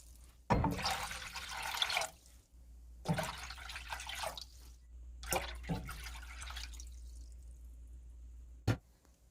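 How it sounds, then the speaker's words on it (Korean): Water pours in bursts into a cooking pot, four liters going in for a cinnamon and ginger punch, with splashing gushes that pause between pours and end in a short clink. "풀어지지 않게 잘 묶어준 다음 물 4리터를 담고"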